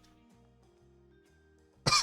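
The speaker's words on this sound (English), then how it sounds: "I'm going to be coughing a lot" One short, sharp cough from someone recovering from illness near the end, after a stretch of faint low background hum.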